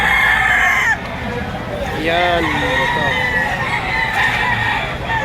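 Roosters crow and chickens cluck at a busy chicken market behind SM Lipa, Batangas, with several long crows rising over steady clucking and crowd noise while someone talks close by.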